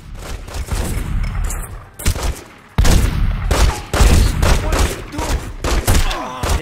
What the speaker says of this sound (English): E ainda por cima levando tiro de shotgun, velho.